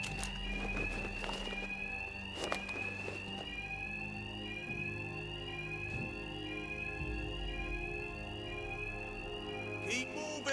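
An alarm in Batman: Arkham Knight's Two-Face bank robbery mission rings continuously, a rising electronic tone repeating every second or so, with thuds and scuffles beneath it.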